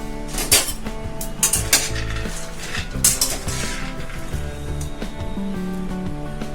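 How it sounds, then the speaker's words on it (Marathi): Peanuts being dry-roasted and stirred in a pan for sesame-jaggery ladoo, a steady run of scraping and clinking from the utensil against the pan with several louder knocks, close and continuous with no talking. "हे बघा शेंगदाणे भाजते मी।"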